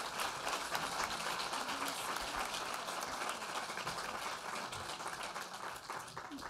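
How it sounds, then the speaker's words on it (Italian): An audience at an Italian press and media conference applauds a speaker, giving continuous, dense, even clapping that fills the room without pause. "Un applauso"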